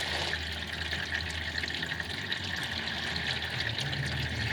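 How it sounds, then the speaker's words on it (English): Transmission fluid from a Mercedes ML W163 pours out steadily from a loosened pan with a few bolts removed into a catch container, making a continuous close splashing, trickling wash like rain, with no voices. "That's what it looks like when you pull a few pan bolts out and have to drain it this way."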